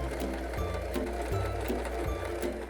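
A Singer Start 1306 domestic sewing machine stitches in short bursts, a steady mechanical whir broken by brief pauses between runs, close and fairly loud with no talking.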